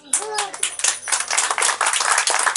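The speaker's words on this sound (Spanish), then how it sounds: "un aplauso por favor" An audience at a meditation talk claps, a burst of close, sharp handclaps that starts after a brief voice and keeps going in uneven bursts.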